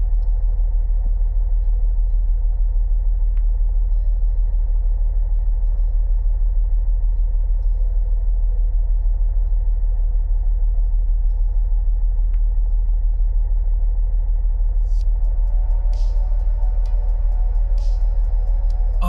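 A car engine in a video game rumbles with a deep, constant low drone and a steady idle throb, joined near the end by a few faint higher clinks.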